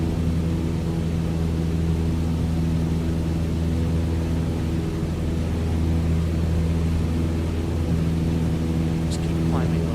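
Steady, loud aircraft engine drone at full throttle with mixture pulled back, climbing in Flight Simulator 2024, a continuous tonal hum filling the whole stretch with a faint brief chirp near the end.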